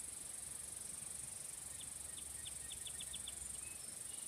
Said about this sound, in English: Is that like a cicada, whatever it's called?